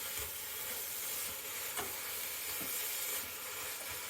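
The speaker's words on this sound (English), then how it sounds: "just break up the meat and just cook this for about 8 minutes" Ground turkey sizzles and fries steadily in a pan as it is broken up and stirred, with occasional scraping clicks over a constant broadband hiss for bolognese.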